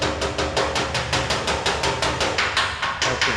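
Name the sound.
hammer and dolly on car body panel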